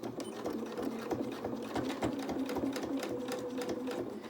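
A sewing machine stitches gathers on fabric, running forward and back in a rapid, even mechanical patter heard up close.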